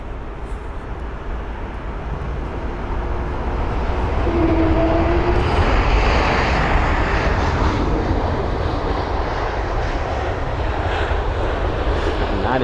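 A Lufthansa airliner comes in to land at London Heathrow, a steady, loud jet roar with a faint whining tone that swells slightly midway and holds throughout.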